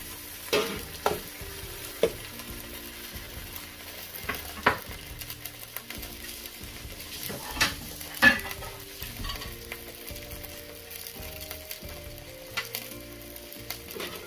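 Pancit bihon rice noodles stir-fried with soy sauce, sizzling steadily in the pan with scattered scrapes and stirring knocks throughout, close and continuous with no talking.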